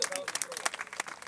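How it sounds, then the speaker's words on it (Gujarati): A crowd at a devotional gathering at an ashram claps in a quick burst of scattered applause close by, while a voice speaks over it. "તાળીઓનો ગડગડાટ કરી દો."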